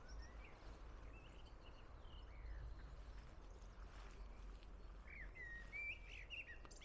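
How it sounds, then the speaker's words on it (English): Faint birds chirping and calling in the distance over a steady low rumble of outdoor background noise, with brief bright tweets toward the end. "The birds are talking."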